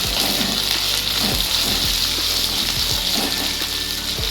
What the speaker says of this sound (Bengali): এরপর আমরা দেবো এর মধ্যে পরিমাণ মতো নুন এবং আবার আমরা ভালো করে এদিকে কষিয়ে ফ্রাই করে নেব।